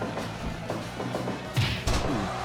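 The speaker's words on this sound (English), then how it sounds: "Big knee to the gut from Mag.Lo" A knee strike lands on the gut during a house wrestling match, giving two heavy, muffled thuds in quick succession over a steady background rumble.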